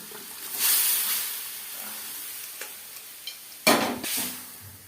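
Mutton drops into a pan of frying new potatoes with a hiss, followed by a few scrapes of stirring and a burst of sizzle near the end.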